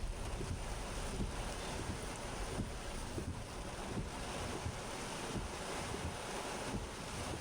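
Very strong wind gusting outdoors, mixed with water, roaring as a steady loud broadband rush with buffeting against the microphone, continuous with no voices.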